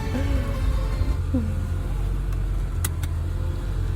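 A 2007 Lamborghini Gallardo with a gated six-speed idles steadily in a garage, a low continuous engine rumble close by, with a couple of brief sharp clicks near the end and no talk.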